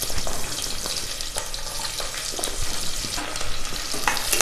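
Onions fry loudly in a pan for egg biryani, a dense, continuous sizzle broken by stirring scrapes and clatter, with no voices.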